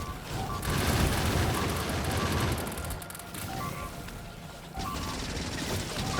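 Defensive turrets in the game Factorio fire steadily at attacking biters, a dense, continuous rattle of gunfire with booming impacts that runs through the whole stretch at moderate loudness.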